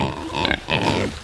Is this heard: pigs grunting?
yes